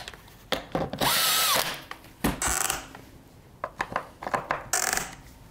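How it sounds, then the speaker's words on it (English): A cordless impact driver starting screws into the cover of a cut-off saw, heard in several short bursts of whirring and rapid hammering separated by brief pauses, close and fairly loud with no talk. "I'll just start the screws with the impact"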